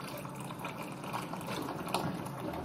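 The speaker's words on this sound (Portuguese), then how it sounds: "Vou colocar agora água fervida." Boiled water poured over beans set to soak, a steady broadband gushing and splashing stream running continuously without pause, close and moderately loud, with no talk over it.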